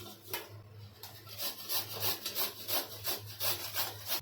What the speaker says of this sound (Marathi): ही जी कैरी आहे ना ही आपण खोबरं किसायची किसणी आहे ना त्याच्याने मी ही किसून घेणार आहे